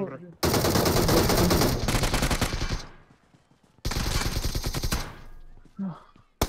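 Loud, close bursts of rapid automatic gunfire ring out in a zombie-mode shooter game, two long volleys separated by a pause, then a brief voice and a last shot.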